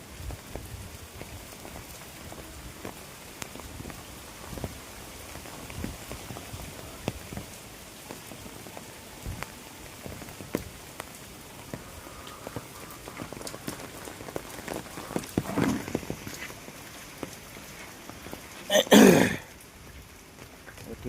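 Steady rain from Cyclone Dana patters across a surface throughout, with a brief louder gust or rustle near the end; no one speaks.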